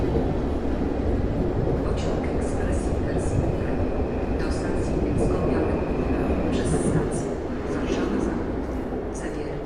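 ED160 electric multiple unit number 028 at the underground Warszawa Centralna station: a loud, continuous rolling roar with wheel rumble and occasional faint squeals, and a voice speaks over it throughout.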